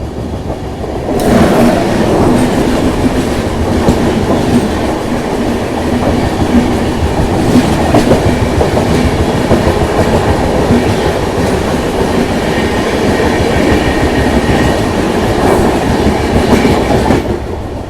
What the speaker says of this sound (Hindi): राजधानी मतलब बेंगलोर राजधानी का क्रॉसिंग होने वाला है, तो चलिए आपको दिखाता हूँ एक शानदार सा क्रॉसिंग।